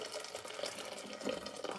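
Just-boiled water is poured for candle making as a soft, steady splashing trickle with small bubbling fluctuations, close by and fairly quiet, with no talking.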